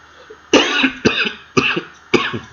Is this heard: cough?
yes